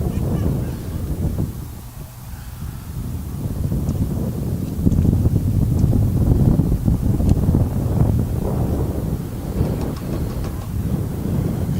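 Strong wind buffets the microphone at an outdoor soccer field during a boys' game, a steady rumbling roar with gusty swells throughout.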